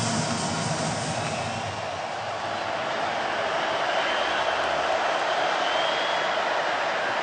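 A sellout football crowd at Bryant-Denny Stadium roars after a touchdown in the 2023 Alabama Crimson Tide vs Tennessee Volunteers game, a steady, dense wash of cheering that holds loud and unbroken throughout.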